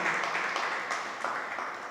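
An audience at a Jain religious sermon gathering in Mahatpur, Maharashtra applauds in a steady, dense wash of many hands clapping together, moderately loud and fairly even throughout, easing slightly toward the end.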